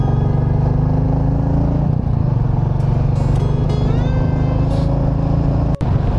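A motorcycle cruises along a smooth tarmac highway, its engine holding a steady, loud droning hum close by with a constant rush of wind and a brief dip near the end; no one speaks.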